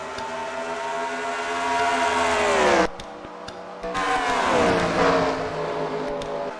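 Race cars passing on a track, seen from the pace car, engines roaring loud and close with pitch falling as each car goes by, two distinct passes with a short gap between.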